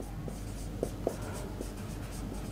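A teacher writes a sentence on a classroom board, with faint scratchy strokes and a couple of small taps in a quiet room.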